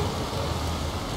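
Steady rain in The Witcher 3 video game, a dense even hiss of falling water with no talk over it.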